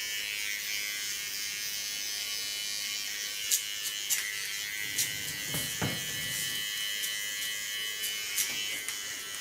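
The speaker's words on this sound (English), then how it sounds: "small Theo Knoop clipper" A small Theo Knoop electric hair clipper buzzing steadily close by during a haircut, with a few brief rises and taps as it moves through short hair; nobody speaks.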